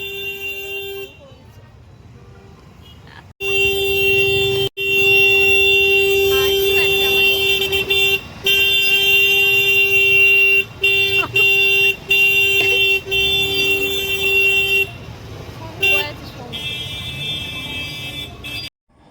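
A loud, sustained motorcycle horn blares almost continuously with brief gaps, close behind, over traffic noise, cutting off abruptly near the end.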